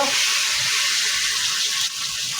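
Sea fish going into a hot pan over a wood-fired stove, giving a steady loud hiss of frying oil that carries on unbroken for a couple of seconds with no voices.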